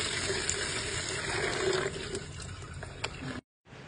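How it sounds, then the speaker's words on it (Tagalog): Water runs and splashes over the roots of a Philodendron Prince Albert, a steady close rinsing stream with small drips, stopping abruptly near the end. "Hugasan ko muna yung mga ugat nitong ating halaman."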